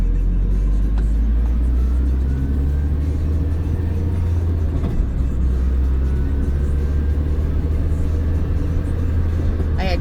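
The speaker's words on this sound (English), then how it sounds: "I slowed down and let the cars on the other side of me go past" A car drives along a road, giving a steady loud engine and tyre rumble that holds even for about ten seconds, with no voices.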